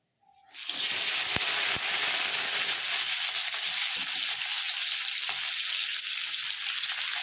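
Chopped broad beans drop into a pan of hot oil with panch phoron, setting off a sudden loud sizzle after a moment of quiet that then roars steadily, with faint stirring clicks.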